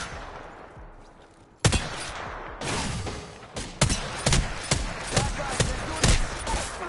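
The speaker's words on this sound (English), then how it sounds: "They're shooting at me!" Rapid bursts of gunfire in the battle royale game Apex Legends, loud sharp cracks starting after a quiet opening and repeating in irregular volleys close by.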